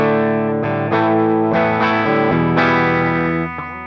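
Schecter BlackJack electric guitar run through a Fender Tweed Deluxe amp model on a Valeton GP200LT, low gain: a series of strummed chords roughly every second, ringing and sustaining, loud and alone.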